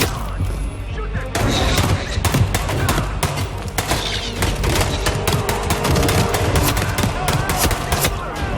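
Gunfire in the video game Hitman 3: dense, rapid bursts of shots sound continuously over a loud, busy battle mix for the whole stretch, with a brief quieter lead-in before the firing builds.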